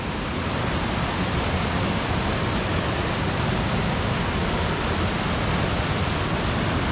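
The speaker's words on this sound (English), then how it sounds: "And look at it, the way the river drops into this central area." A river drops over smooth, worn rocks into a central pool, giving a loud, dense, continuous rushing roar up close with no voices.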